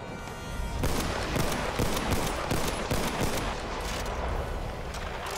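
Dense, loud gunfire from the World War I shooter game Battlefield 1: overlapping rifle and machine-gun bursts crackle continuously, with close shots popping over a constant roar of distant fusillade and no voices.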